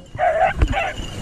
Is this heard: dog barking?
yes